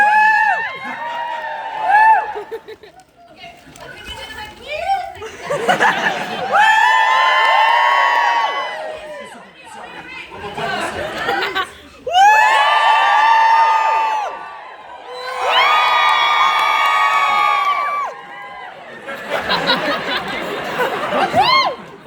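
Convention audience at a Baldur's Gate 3 panel at Liverpool Comic Con, repeated waves of loud cheering, whooping and shrieking from a large crowd, rising and falling in long bursts with brief quieter gaps.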